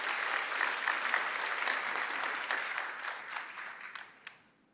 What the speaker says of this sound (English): please join me in welcoming Ms. Jane Sun with a warm round of applause